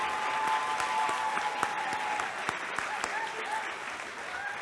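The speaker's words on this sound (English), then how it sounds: "They deserve a huge round of applause." Graduation ceremony audience applauding the conservatory staff, sustained clapping from a crowd with a few louder individual claps standing out, steady and fairly close throughout.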